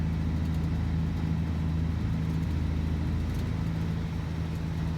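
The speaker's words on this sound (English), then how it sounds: "You can hear a lot of the shaking like you'd actually hear in a truck." Truck engine in the Alaskan Road Truckers video game, a steady low rumble with rattling cab shaking that runs unbroken and fairly loud for the whole stretch, with no voices.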